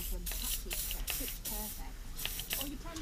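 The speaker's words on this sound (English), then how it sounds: "I'm going to take the straw off because it gives a finer mist." Aerosol cleaner sprayed as a fine mist, straw removed, onto the fuel system of a cheap lawnmower being repaired; steady close hissing bursts repeat throughout, with a voice speaking over them.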